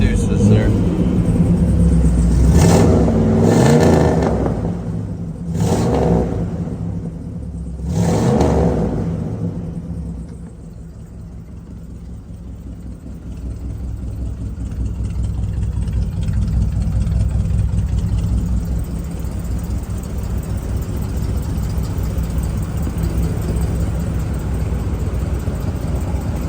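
A 1958 Chevrolet Impala's original 348 V8 with three two-barrel carburetors rumbles loudly, revving in short bursts early on and then settling into a deep, steady idle, heard up close with people talking over it.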